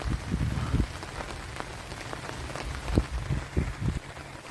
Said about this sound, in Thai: ขณะนี้ฝนกำลังตกเลยครับ แรงด้วย